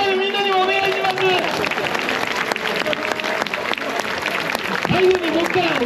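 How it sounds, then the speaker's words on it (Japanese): At a night performance at Nagasaki's Wakamiya Inari Shrine festival, an audience claps in a steady wash under loud, amplified talking and crowd chatter, with a brief louder swell near the end. "そして高橋さんの大きな拍手をお願いします。"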